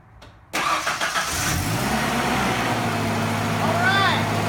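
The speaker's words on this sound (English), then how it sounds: "let's see if she cranks this time." A 1994 Ford Ranger with a new starter cranks and fires up after a short silence, then idles with a steady rumble while people talk nearby.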